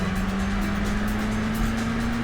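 A muscle car in the racing game Burnout, a steady engine drone with a sustained tone rising slightly in pitch as it goes by, loud and continuous under road noise.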